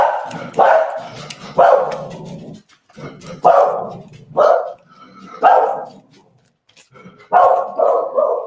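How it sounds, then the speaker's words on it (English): Several dogs bark repeatedly at close range in loud bursts with short gaps between them, the barks sometimes overlapping, with no talking. "My dogs are barking because there's a little annoying dogs next door that bark all the time"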